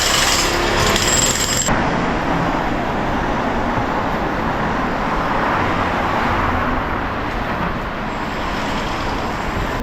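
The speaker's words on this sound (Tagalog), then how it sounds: "Medyo maingay lang kasi merong construction dito." Loud, dense construction noise fills a busy street in the Ximen area of Taipei, a continuous roar of machinery and traffic with a sharper clattering burst at the start, heard close and without voices.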